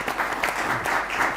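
A conference audience applauds a panel at a business festival roundtable, producing dense, steady clapping across a brief stretch.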